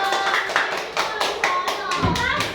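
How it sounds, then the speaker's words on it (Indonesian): Children in a classroom clap for their group in a quick, evenly spaced rhythm, the claps falling together in unison alongside young voices. "kasih tepuk tangan dulu buat kelompok 1"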